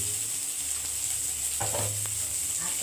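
Black cumin, five-spice, bay leaf, green chilli and onion crackle and fry in hot oil in a pan after fish has been lifted out, a steady close sizzle with a couple of brief stirring knocks.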